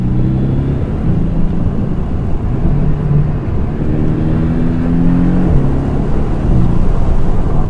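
Engine and exhaust of a Porsche 718 Boxster S under acceleration, heard as a loud, continuous low drone whose pitch rises and falls, heavily buffeted by wind noise from the open roof.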